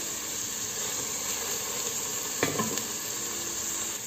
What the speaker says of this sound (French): je fais revenir mes oignons, je vais rajouter mes carottes avec